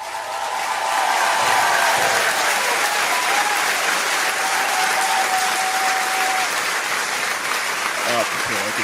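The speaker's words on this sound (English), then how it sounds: "You guys deserve a round of applause" Loud, sustained applause from an online stream audience, dense clapping with some faint whistle-like tones, lasting most of nine seconds before tapering off.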